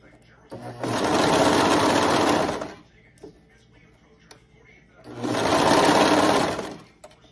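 A sewing machine runs in two fast, buzzing bursts of stitching, each lasting a couple of seconds, with quiet pauses and a few clicks between.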